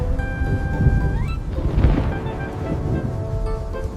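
A thunderstorm on an animated farm show, rumbling thunder and gusting wind in a continuous roar, with a rising tone over it and no talking.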